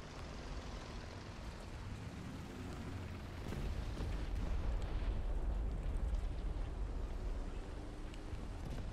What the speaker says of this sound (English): one bomb hit from JU-87